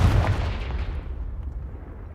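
A Confringo fire spell blasts in the Hogwarts Legacy video game, a single loud, deep boom that hits at once and then rumbles away over about two seconds.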